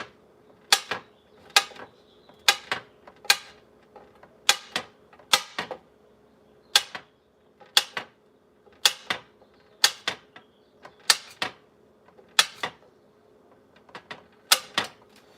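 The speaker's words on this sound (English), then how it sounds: "So I'm just going to cut up 2 of these Sargento string cheeses." A knife chops through Sargento string cheese sticks on a cutting surface, about fifteen crisp, close taps in an uneven rhythm, with quiet pauses between the cuts.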